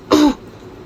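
Someone clears their throat with a single short, harsh cough that has a scratchy, rough edge. It sounds close and loud, and quiet follows.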